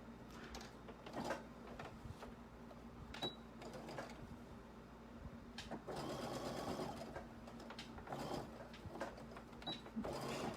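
A sewing machine stitches a seam on a small fabric Sarubobo doll, running steadily from start to finish with a few brief pauses and handling clicks, close and moderately loud, with no talking.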